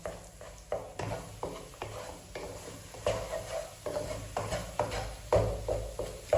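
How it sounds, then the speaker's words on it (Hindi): Gram flour roasting in desi ghee for besan halwa: close, rhythmic spatula scrapes against the pan, repeated at a steady pace over a faint sizzle. "इसमें हम अच्छी तरह से भुनाई कर लेंगे"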